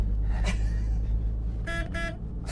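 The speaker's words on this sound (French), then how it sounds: "klaxonne à l'intérieur" A car horn sounds one short toot, then two longer honks close together, clear over a low background rumble.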